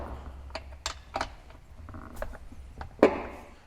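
A socket wrench works on the nuts of a chainsaw cover, giving scattered metallic clicks and ratcheting taps, with one louder knock near the end, close and moderately quiet, no voices.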